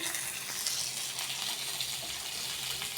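Panch phoron spices sizzling in hot oil in a pan on a gas stove, a steady bright crackling hiss that stays even throughout.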